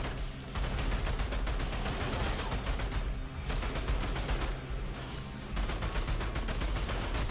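Rapid gunfire in the video game Bunker Punks, a dense stream of shots and mechanical clatter running almost without pause, with brief dips between bursts.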